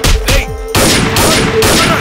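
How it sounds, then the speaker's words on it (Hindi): Gunfire in a Hindi-dubbed South Indian action movie: a loud burst of shots in the first moments, then a dense, ongoing crash of gunfire and booming impacts across the clip, with no talk over it. "वो गोली चला रहा"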